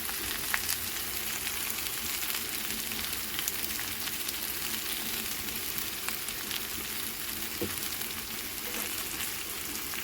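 Masala sizzles and fries in a pan with cumin and coriander powder for a pui shak and prawn dish, a steady close crackling hiss with faint occasional stirring scrapes, no voices.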